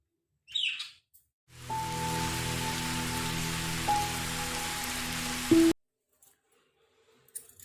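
Ragi dosa sizzling in ghee on a hot pan, a steady, close hiss that rises abruptly, holds for about four seconds with faint tonal hum lines beneath, then cuts off sharply; no one speaks.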